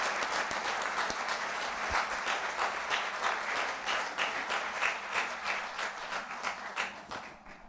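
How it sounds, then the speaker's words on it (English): A church congregation applauds new members, a steady, full round of clapping from many hands that holds for several seconds and then begins to fade. "let's all give our new members a round of applause"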